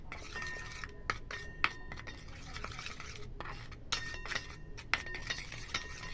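A lemon juice, salt and Colgate toothpaste mixture being stirred in a small dish, with scraping taps and light clinks of a utensil against the container, close and fairly quiet, in an uneven rhythm.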